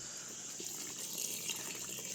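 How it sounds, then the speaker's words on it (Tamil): Dosa batter being mixed with plain water, giving soft, continuous liquid swishing and sloshing at low level, close and alone. "எல்லாத்தையும் நம்ம பச்சை தண்ணி விட்டு தான்"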